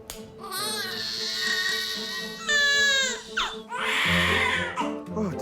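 A newborn baby cries in a neonatal ward at night, giving long, loud, wavering wails broken by short gasps, close and clear.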